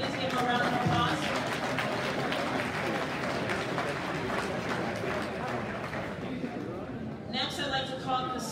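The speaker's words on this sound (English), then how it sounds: "Please give him a round of applause." Audience applause after a law enforcement official is introduced at a cannabis business panel, dense steady clapping through most of the stretch before thinning out near the end.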